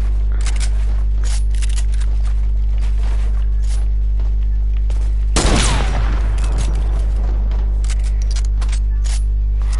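Sniper gunfire in a video game: one loud, sharp shot cracks out midway, followed by a burst of rattling debris, over a steady low hum with faint ticking and footstep-like taps.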